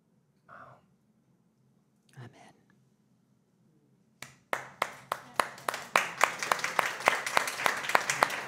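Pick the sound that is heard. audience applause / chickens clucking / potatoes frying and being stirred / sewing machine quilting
audience applause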